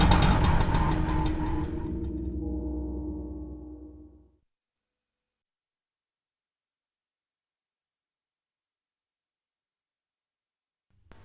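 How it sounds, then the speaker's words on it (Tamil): A motorbike engine rumbles close by for about four seconds, then cuts off, leaving silence. "Bike sound."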